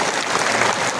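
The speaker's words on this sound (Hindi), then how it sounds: "अरे ताली तो बताइए जोर से" A crowd at a political rally in Samastipur, Bihar bursts into loud, dense applause, a continuous roar of many hands clapping close by.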